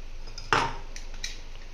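A metal sieve is handled while baking cupcakes, giving one sharp metallic clink followed by a couple of lighter taps in a quiet kitchen.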